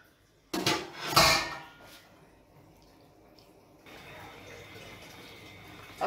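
A lid goes onto a cooking pot of Jamaican oxtails, giving two sharp metallic clanks close by, followed by a low steady simmering hiss.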